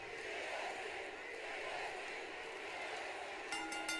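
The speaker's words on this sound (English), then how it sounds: "Oh, this crowd is absolutely unhinged right now" A wrestling arena crowd roars in a continuous, loud wash of cheering and shouting, with a few bright clinking or whistling accents near the end.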